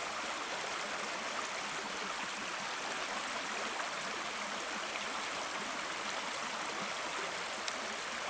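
Douglas Creek flowing steadily along a forest trail, a continuous close rushing of water with no pauses and no voices.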